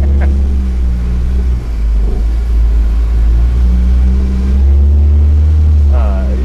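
An ENWIX all-terrain vehicle engine drones loud and close with a heavy low rumble, swelling in brief revs as the vehicle drives on.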